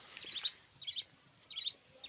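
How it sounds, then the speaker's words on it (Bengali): A pet budgerigar gives short, high chirps in four quick bursts spaced about half a second apart, fairly close and clear against a quiet room. "তো এই যে পাখিটা"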